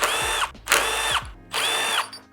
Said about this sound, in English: You're gonna take your 5mm, loosen all these up.